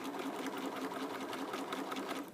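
A sewing machine stitches fabric up close, a fast, even mechanical whirring and rattling that runs steadily without pause, with no voices.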